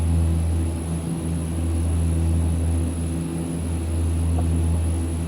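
Saab 340A twin turboprop engines in the X-Plane 11 flight simulator, a steady, loud propeller drone with a constant low hum and a thin high whine, unchanging throughout as the airliner climbs.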